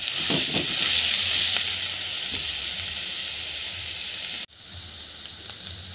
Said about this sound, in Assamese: তেলখিনি গৰম হৈ গ'ল, এতিয়া পিঁয়াজ দিছোঁ, নহৰু দিছোঁ